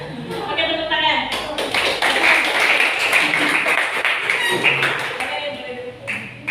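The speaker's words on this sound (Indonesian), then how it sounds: "Oke, tepuk tangan." A group of people clapping hands together during a psychodrama group guidance session, steady loud applause lasting several seconds, with voices over it.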